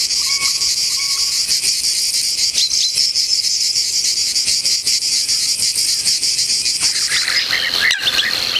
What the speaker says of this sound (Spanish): la cigarra en los pinares de la tierra pinariega de Valladolid y Segovia.